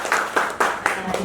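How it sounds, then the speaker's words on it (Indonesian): Brief scattered hand claps from a small classroom group, a few distinct claps about every quarter second, close and moderately loud, over faint room murmur. "Berikan tepuk tangan dulu dong untuk Virus."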